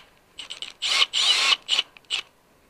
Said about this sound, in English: I'm going to remove this screw. This is a number 2 square bit